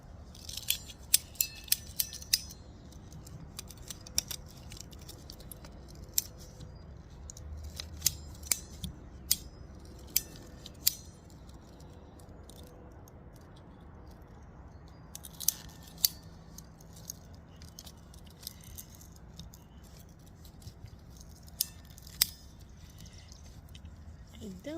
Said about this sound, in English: So I'm going to cut this pipe.